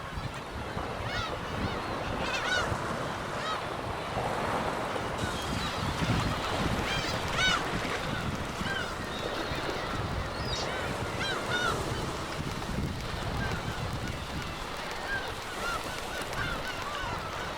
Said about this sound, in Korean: 방어나 돌고래의 멸치떼 사냥을 기다려 순식간에 수천 마리의 갈매기가 날아오른다.